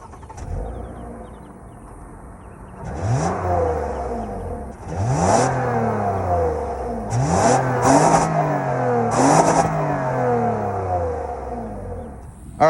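A 2007 Toyota Camry XLE's 3.5 liter V6 engine revs up repeatedly from idle, each rev rising in pitch then falling back, with a steady hum between bursts, close by.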